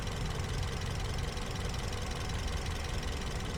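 A 2012 Toyota Yaris S TRD with manual gearbox idling steadily, a smooth, even engine rhythm held close and continuous with no voices over it.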